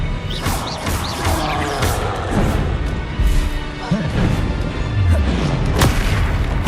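Repeated Confringo blasting-spell explosions in the Hogwarts Legacy video game, with booms and crashes in a dense, continuous battle mix that runs loud throughout.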